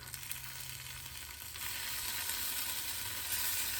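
Tomatoes for eggs in purgatory cook in a pan on medium-low heat, producing a steady sizzling hiss that swells slightly after a light scrape, close and moderately quiet.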